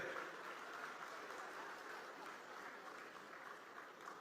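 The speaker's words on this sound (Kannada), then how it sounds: "ದಯವಿಟ್ಟು ಜೋರಾಗಿ ಚಪ್ಪಾಳೆ ಅಂತ ನೀವು ಪ್ಲೀಸ್ ಬರಮಾಡ್ಕೊಳ್ಳಿ" Audience applause at a speech in Dharmasthala: a dense, even wash of many hands clapping that holds steady throughout and sounds fairly distant and soft.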